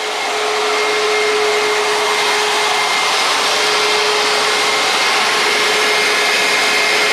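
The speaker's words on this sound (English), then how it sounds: "we're gonna do that 3 more times while he's drilling that hole" Drilling a hole through the steel of a detach lowboy trailer, a loud, steady whirring drone with a constant whine that runs unbroken for the whole stretch, with no talking.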